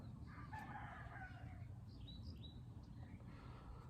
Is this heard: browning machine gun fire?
no